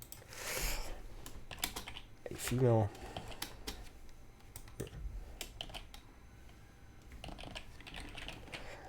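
Clattering computer keyboard keystrokes come in scattered clusters at close range, mixed with a brief voice and some mouse clicks, with quiet gaps between.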